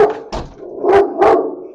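A Rottweiler barks three times in quick succession, loud and close, each bark short and sharp, with no one speaking.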